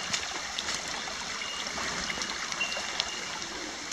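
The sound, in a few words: flooded creek water flowing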